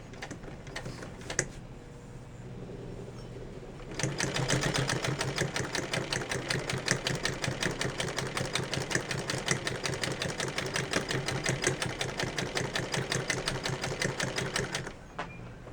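A vintage sewing machine with felt oil pads runs at a steady, rapid mechanical clatter for about eleven seconds, close and even, with a few clicks before it starts and after it stops.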